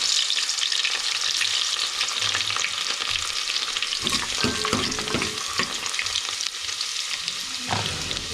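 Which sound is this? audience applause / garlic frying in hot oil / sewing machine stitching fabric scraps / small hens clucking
garlic frying in hot oil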